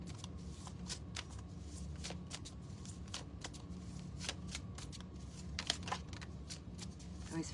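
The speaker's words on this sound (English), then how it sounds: "this deck really doesn't like to be shuffled like this" Tarot cards riffle and slap together in quick repeated bursts, a crisp papery shuffling heard up close against a quiet room.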